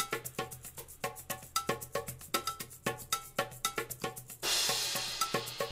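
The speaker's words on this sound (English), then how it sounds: "There's a bunch of overdubs that we now include of various crash cymbals." Drum mix with a rapid, steady pattern of sharp metallic hits, then a loud crash cymbal overdub bursting in near the end and washing out as it decays, with no talking.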